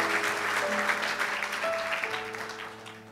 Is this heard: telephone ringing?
no